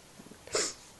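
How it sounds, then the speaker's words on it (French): A single sneeze bursts out about halfway through, sharp and fairly loud, preceded by a few small breathy catches and sniffs and trailing off into quiet room tone. "Je vais éternuer."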